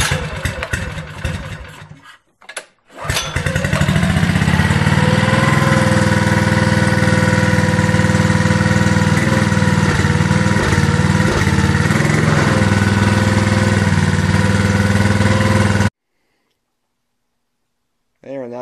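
A 2018 Yamaha Snoscoot 200 snowmobile engine is cranked a few times, catches, and settles into a steady, loud single-cylinder run with small throttle changes before it is shut off, leaving silence.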